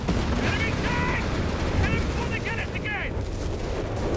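Artillery barrage in the Company of Heroes 3 strategy game, muffled rumbling explosions and battle noise in a continuous wash, with a few whistling shells and someone commentating over it.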